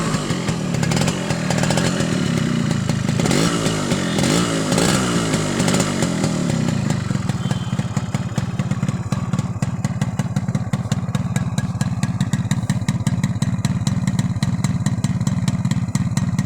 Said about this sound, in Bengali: একটু গাড়িটা স্টার্ট দিচ্ছি।